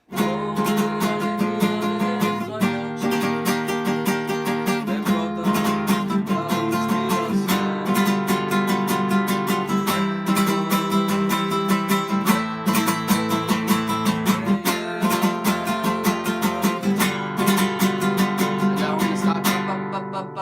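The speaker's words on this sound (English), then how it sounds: "we will be playing the chord sequence again, but using the son manico, so it's going to sound like this" Continuous rhythmic strumming of chords in a lively mariachi son pattern, bright and steady throughout, with no voices.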